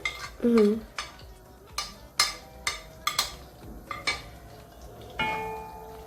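A spoon clinks and scrapes against a pan as garlic is stirred into melted butter for white sauce pasta, a series of sharp, close metallic taps over a faint, low sizzle.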